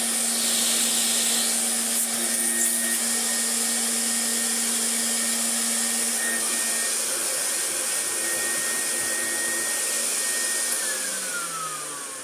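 A vintage Siemens Super vacuum cleaner, refurbished, running steadily with a loud, close whooshing roar and a high motor whine, the pitch shifting slightly near the end as it winds down.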